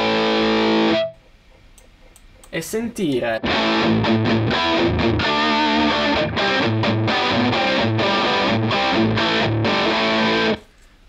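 Distorted electric guitar played through a Two Notes Torpedo Cab M with a studio room simulation, a dense, loud run of chugging riffs and sustained chords after a brief spoken phrase and a short pause.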